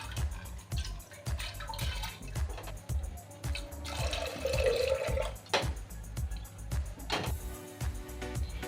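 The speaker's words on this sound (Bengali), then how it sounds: "এরকম 1 পট জল দেবেন ডাল সেদ্ধ করতে।" Water is poured from a pot into a pressure cooker on a lit gas stove to boil lentils, a close, splashing and gurgling stream with clinks and drips, and no speech.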